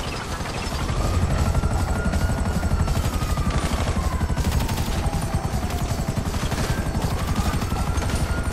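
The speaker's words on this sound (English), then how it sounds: "Take out that chopper!" A helicopter in GTA 5 during a raid on a federal building, a steady loud rotor thump throughout with a faint rising and falling whine, sustained and close without pause.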